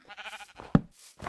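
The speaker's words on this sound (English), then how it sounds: "Hi, sheep." A sheep in a farming video game lets out a short, sharp bleat, close and fairly loud, preceded by soft wavering sounds and quiet gaps.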